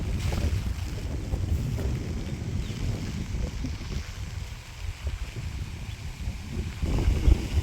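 Strong wind, steady enough for flying kites, gusts and rumbles into the microphone without pause across a rainy village scene, with a deep buffeting roar throughout.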